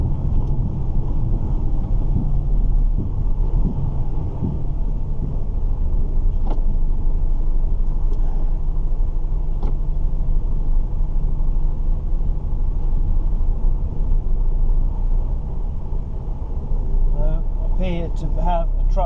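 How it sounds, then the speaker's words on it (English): A truck comes toward the listener on a road during sugar beet season, a steady low rumble with wind buffeting the microphone, while a person talks over it. "To have a truck coming towards me, which wasn't really the plan."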